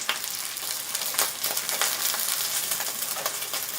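Tofu skin spring rolls fry in a pan of oil over medium heat, a continuous close sizzle with occasional sharper spits and crackles.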